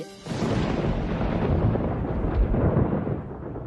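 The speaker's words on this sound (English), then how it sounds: "On the night of the wedding, there is an ominous storm." Low, continuous rumble of an ominous thunderstorm on a wedding night, a sustained roll of thunder holding steady for several seconds before easing slightly, with no voices.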